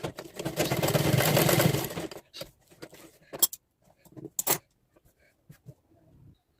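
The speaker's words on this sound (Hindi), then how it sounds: "या तो आप मशीन से यहाँ पे कच्ची सिलाई लगाएंगे" A sewing machine running a loose basting stitch on a katori blouse: about two seconds of steady close whirring, followed by scattered clicks and handling noises.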